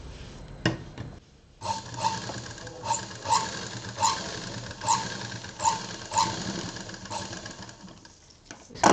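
A sewing machine stitching a transparent plastic pencil pouch runs in short, regular whirring bursts about every second, close and fairly loud, with brief pauses and handling noise between the runs.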